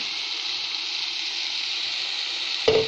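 Chopped tomatoes hit a hot pan while cooking for béchamel pasta, giving a steady bright sizzle throughout and a short sharp splash of frying near the end.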